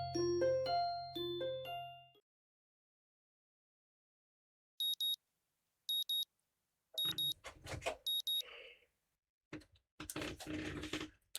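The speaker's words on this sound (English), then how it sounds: "My morning alarm goes off" Morning alarm in the Katawa Shoujo visual novel: four short, bright electronic beeping bursts at an even pace, each ringing alone in otherwise quiet surroundings, followed by rustling and clattering noises.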